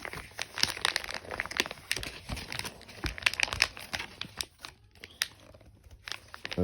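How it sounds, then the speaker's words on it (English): Packaging on a Solana Seeker phone box being ripped open up close, with busy crinkling and tearing of plastic and paper in quick irregular bursts that ease off toward the end. "Let's rip it right open."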